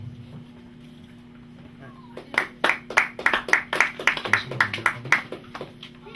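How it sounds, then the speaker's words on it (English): Applause breaks out for a poet after a spoken-word poetry reading, starting out of a quiet room and building into a moderate burst of claps from a small audience, over a low steady hum. "Please give a warm round of applause for Jason Portizo."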